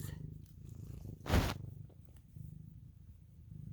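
Kittens purr softly and close with a steady low rumble, broken once by a brief burst of rustling noise.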